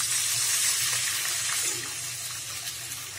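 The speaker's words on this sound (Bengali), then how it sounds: "এই যে জল দিয়ে দিচ্ছি" Water is poured into a pan of deep-browned fried onions, giving a loud hissing, gushing sizzle that stays steady for a moment and then eases back to a lower, continuous bubbling.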